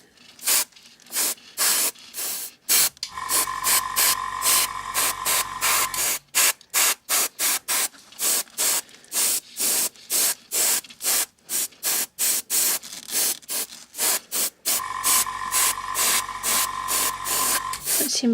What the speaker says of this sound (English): Seems to be spraying on quite nicely anyway, giving a reasonably even smooth coat.